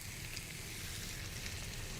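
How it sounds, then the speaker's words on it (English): Chopped onion sautés in melted butter for a casserole, a steady, soft, even sizzle with no voices. "let's go ahead and add in our onion. Get that kind of sauteing up in that butter."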